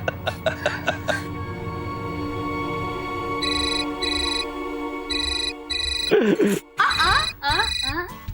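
An incoming call rings on a mobile phone, a repeating electronic ringtone in short bursts, loud and near, with people speaking before and over it in a domestic setting.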